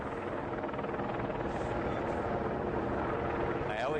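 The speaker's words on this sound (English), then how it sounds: "LA County Sheriff's helicopter circling 400 or 500 feet above. You can hear that." An LA County Sheriff's helicopter circling about 400 to 500 feet overhead, its rotor thrumming steadily, a loud continuous chopping drone with no break.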